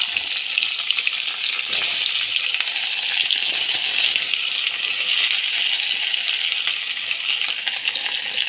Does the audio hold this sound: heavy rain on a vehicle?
no